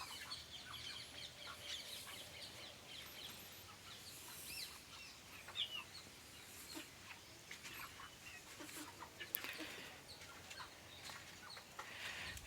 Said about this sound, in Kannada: ಇವಾಗ ಪ್ರೆಸೆಂಟ್ ಇದರಲ್ಲಿ ಒಂದು 30ರಿಂದ 35 ಕೋಳಿಗಳೇನೋ ಇದೆ.